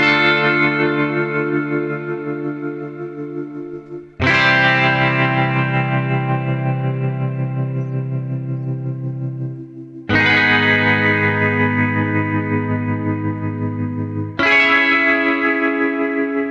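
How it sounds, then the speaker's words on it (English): Desolate Guitars by E Instruments plays four ringing tremolo guitar chords, each struck and left to sustain several seconds with heavy effects, chorus-like shimmer and reverb, loud and close with no talk. "straight out of the box, you have these amazing tremolo chords."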